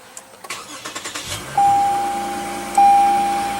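A 2016 Lexus GS 350 F Sport with a 3.5-litre V6 and push-button ignition: soft clicks and a rising crank fire into a steady idle, with two chimes on top, heard in a show-floor setting without speech.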